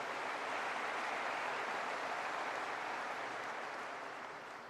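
A full house of people applauds the organizers at the ADIPEC 2023 opening ceremony, a dense, steady roar of clapping that holds evenly and begins to fade near the end.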